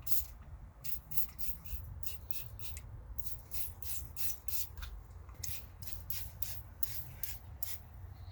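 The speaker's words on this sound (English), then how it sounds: "spray it down, go from there" Repeated short hissing spray bursts of Super Clean degreaser onto an engine in an uneven rhythm, close by, over a low steady background hum.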